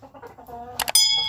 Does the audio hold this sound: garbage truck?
no